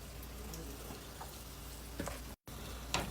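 Luqaimat dough balls frying in hot oil give a steady, even crackle and hiss, with a few brief louder pops near the end.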